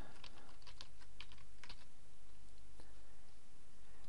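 Rapid, close key presses on a computer keyboard as a username is typed, a quick flurry of clicks fading into a few scattered taps over a steady background hum.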